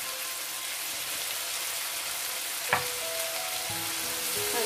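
Tomatoes with turmeric powder cook in a pan, giving a steady, moderately loud frying hiss with one sharp clank of a utensil midway and light stirring toward the end; no one speaks.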